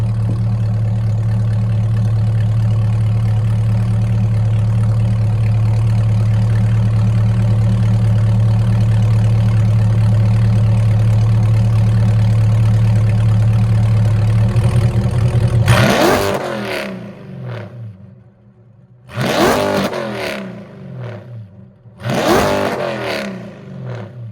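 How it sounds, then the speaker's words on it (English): A C8 Corvette with a Corsa track edition exhaust idles with a deep, steady rumble, then three loud revs surge and drop back in quick succession, close and booming. "I'm just gonna do a couple revs"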